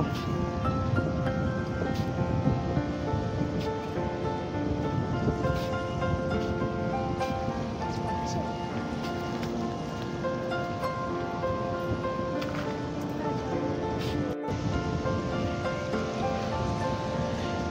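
Sea waves rolling in where the Bhargavi river meets the ocean near Puri, a continuous loud wash of surf with steady rushing noise and no voices.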